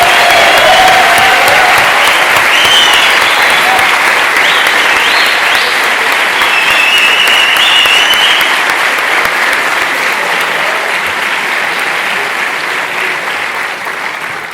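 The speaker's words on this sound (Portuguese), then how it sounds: "eu pedia uma última salva de palmas para o Ricardo Araújo Pereira" A seated audience gives sustained, loud applause at the end of a talk event on humor and democracy. Dense clapping fills the whole stretch with a few cheers and slowly tapers toward the end.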